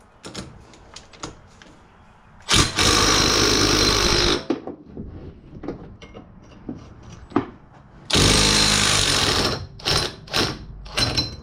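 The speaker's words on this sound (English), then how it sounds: "You gotta really be careful when using power tools though on stuff like that." A power tool whirs in two loud bursts of a couple of seconds each, separated by quieter clunks and taps, followed by a few short bursts.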